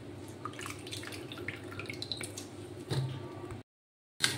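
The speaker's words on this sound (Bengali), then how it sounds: "একটু ভালো করে চেপে চেপে জলটা নিংড়ে নিতে হবে।" Soaked soybeans squeezed by hand to wring out water, giving soft wet squishes and drips at close range, with a brief pause near the end.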